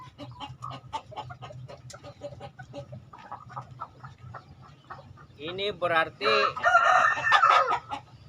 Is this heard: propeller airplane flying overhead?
no